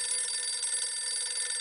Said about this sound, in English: Just can't stand the sound of a phone ringing